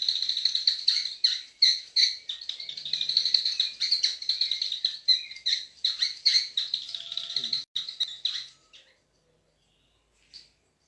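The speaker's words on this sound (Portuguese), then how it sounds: "Ele simula o som de passarinho." High, warbling birdsong-like chirps and trills from a small bamboo whistle made with a string, close and rapid, continuing for several seconds before stopping, with one last short chirp.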